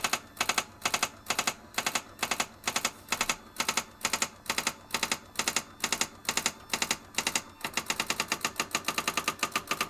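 A Brother electronic word processor types out a line, its daisywheel striking in quick regular bursts of sharp mechanical clacks, close and loud, speeding into a faster, denser run of strikes near the end.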